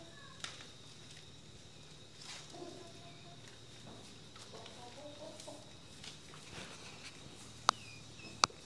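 Chickens cluck softly nearby in a quiet setting, with occasional footsteps and a couple of sharp clicks near the end.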